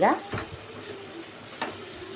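Masala upma ingredients fry in a pan with a soft sizzle, with a couple of brief stirring scrapes against the pan, fairly quiet and close.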